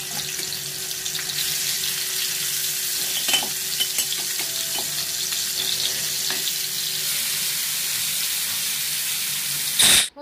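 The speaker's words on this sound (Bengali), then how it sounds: "রাখার পরে এটা আমি তেলের মধ্যে ফ্রাই করে নিব।" Pieces of rohu fish fry in hot oil, giving a steady, close sizzle that runs throughout with a few faint clinks and stirring sounds. A louder burst comes at the very end.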